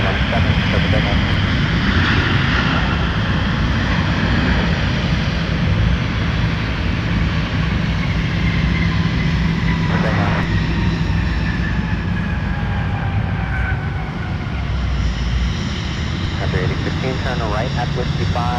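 A Sun Country Boeing 737-800 arriving at Minneapolis–Saint Paul airport, its jet engines a loud sustained roar throughout, with a voice speaking over it.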